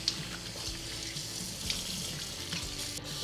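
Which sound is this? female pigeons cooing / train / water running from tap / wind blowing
water running from tap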